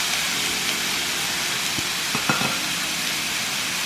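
Cajun-style chicken sizzles steadily in a hot pan, a constant frying hiss with a few soft clinks and knocks of a utensil near the middle.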